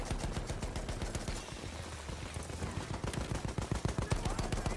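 Rapid automatic gunfire in a shooting video game, sharp repeated shots in a steady rhythm, briefly thinning midway before resuming strongly, with little or no talking.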